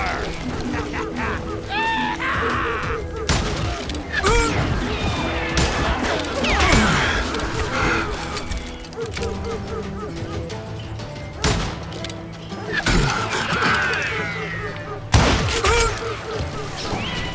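Gunfire in the video game Call of Juarez Gunslinger: sharp shots and crashing impacts burst out irregularly amid mechanical clatter, with character voices shouting over the firefight.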